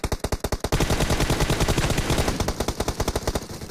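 Rapid automatic gunfire in a shooter video game, a fast rattling burst of evenly spaced loud shots running the whole time with no talking.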